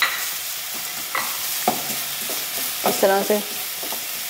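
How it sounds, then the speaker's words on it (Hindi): Vegetables and minced keema frying in a pan for keema macaroni, stirred with a utensil: close scraping strokes and clinks over a steady soft sizzle, with a brief spoken phrase. "इसको 3 से 4 मिनट के लिए हम वेजिटेबल्स को फ्राई कर लेते हैं।"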